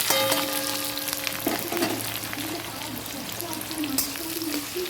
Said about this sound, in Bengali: কড়াইতে তেলটা দিয়ে দিলাম দেওয়ার পরে এবার এটা বেরেস্তা করবো পেঁয়াজটা দিয়ে দিচ্ছি